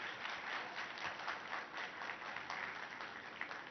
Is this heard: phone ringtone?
no